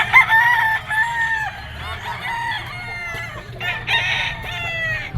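A gamefowl rooster, a bull stag, crows loudly and nearby at a busy outdoor pet market, with more crows and clucks following and faint background chatter.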